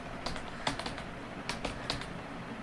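Computer keyboard typing with irregular, close, crisp key clicks spread across a couple of seconds over a soft steady background hiss.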